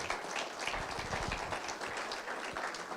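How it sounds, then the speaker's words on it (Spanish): A church congregation applauding, continuous crowd clapping at moderate level with a few voices mixed in throughout. "Denle un aplauso al Señor."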